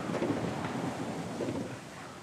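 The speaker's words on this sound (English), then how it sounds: "I don't know whether you can hear the wind. It's ever so windy here today." Wind gusts buffet the microphone at Rutland Water in a steady, rumbling roar, with no voices over it.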